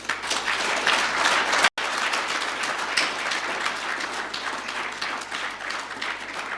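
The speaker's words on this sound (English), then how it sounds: "May you join me in giving a round of applause" Sustained applause from an audience at the inauguration of a board of directors and executive committee, dense clapping that briefly cuts out and then resumes, steady and fairly loud throughout.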